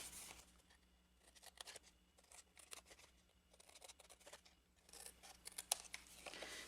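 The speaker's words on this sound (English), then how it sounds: "then I'll cut them apart" Scissors snip repeatedly through cardstock, cutting apart the pieces of a small handmade gift box for mini lint rollers: quiet, close, irregular cuts with no talking.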